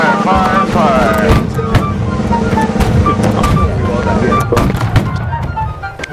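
Artillery fire in the Napoleonic-era battle game Holdfast booms repeatedly amid a busy battlefield, with sharp cannon and musket reports, loud continuous rumble, and distant shouting voices mixed in.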